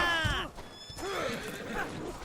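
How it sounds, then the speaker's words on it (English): A horse neighs loudly in the medieval combat game Mordhau, a sweeping whinny up front followed by further quieter neighs and whinnies amid battle noise and a faint voice. "There are horses everywhere."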